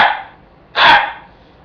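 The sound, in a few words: gray fox bark, deep and raspy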